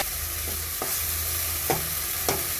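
Catla fish pieces and peas stirred in frying oil, with a continuous sizzle broken by about four sharp spoon scrapes against the pan, close and moderately loud, no voices.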